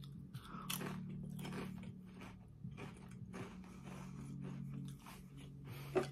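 Flavored chips from World Market are crunched close to the mouth, a run of crisp bites and chewing crackles repeating every half second or so, fairly quiet with no talking.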